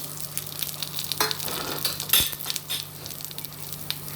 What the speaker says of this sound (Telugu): ఆయిల్ హీట్ పెట్టుకొని ఈ ఆనియన్స్ వేసుకోండి అదే పాన్లో